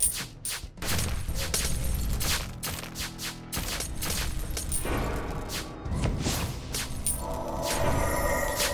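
Gunfire in the video game Warlock vs Shadows: loud bursts of shots and booming impacts come in rapid clusters, with crashing and shattering effects between them.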